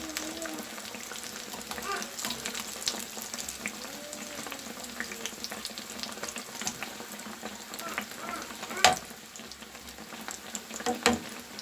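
Rghaif flatbread dough fries in hot oil as it is flipped and puffs up, a soft continuous bubbling sizzle with a few louder splashes and clatters.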